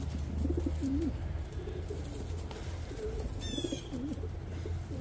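Pigeons in a loft, including a blue bar hen, give repeated soft cooing calls close by, with a steady low hum of the loft behind them.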